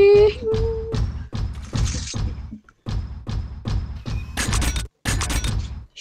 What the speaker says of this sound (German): Ich höre deine Schüsse.